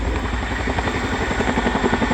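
A military helicopter flown by the Joint Helicopter Support Squad during an air show display gives a loud, close, steady rotor thump with a continuous engine whine, and no talking.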